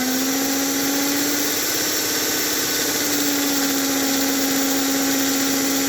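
Model train locomotive motor running smoothly at about 30 volts on ball bearing axles, with ball bearings on the smoke gear and motor, making a steady, close, unbroken whirring hum with a constant tone.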